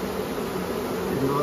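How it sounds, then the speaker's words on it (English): A dense, continuous buzzing of many honeybees fanning at a swarm box entrance, loud and close, with a faint voice in the background. "Bees are fanning on the entrance."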